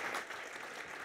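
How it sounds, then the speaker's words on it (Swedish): Audience applause at the close of an Internetdagarna 2019 panel on digital learning, a brief burst of many hands clapping that stays steady for about a second. "Ni ska sitta kvar, men ni ska få applådera ner Kristina, Frida och Anna."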